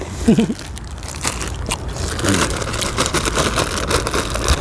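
Crunchy bites into a spicy squid tentacle salad come close to the microphone, with crisp crackling chewing and a steady murmur in the background.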